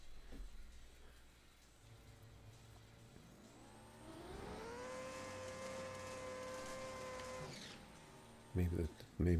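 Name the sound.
racing car engine in video game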